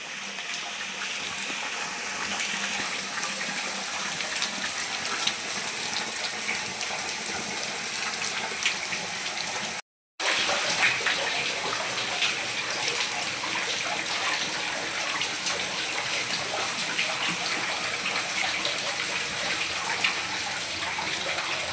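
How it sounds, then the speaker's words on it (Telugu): Water runs constantly at a hilltop Shiva temple in Nalgonda district, a steady close gush like a tap pouring, continuous apart from one brief cut, with no talk. "మూడు వందల అరవై రోజులు ప్రతిరోజు ఎప్పుడు ఎనీ టైం ఇక్కడ వాటర్ వస్తూనే ఉంటాయి"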